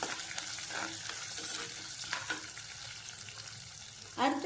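Small shallots fry in hot oil in a pan for a garlic curry, a steady close sizzle with occasional scraping stirs and a louder burst of crackling near the end.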